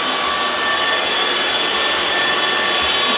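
Hoover FloorMate spin-scrub hard floor cleaner running steadily as it works over spilled condiments, a continuous loud motor whine and brushing hiss with no break throughout.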